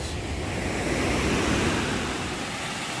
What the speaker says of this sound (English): here is Little Tolliver Falls, Tolliver Creek